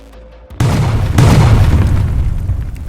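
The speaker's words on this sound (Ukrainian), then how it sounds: "деякі об'єкти були підірвані" A sudden deep boom bursts out after a quiet moment, followed by a second surge and a long rumbling roar that slowly fades.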